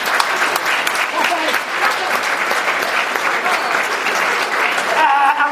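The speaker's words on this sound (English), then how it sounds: "put your hands together and give yourselves a round of applause" Community launch event audience giving a sustained round of applause, dense loud clapping filling the room for several seconds with voices faintly mixed in near the end.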